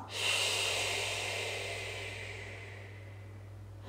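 One long, forceful breath during a morning muscle-wake-up exercise, a close airy hiss that swells quickly and then fades slowly over several seconds, with a steady low hum underneath and no talking.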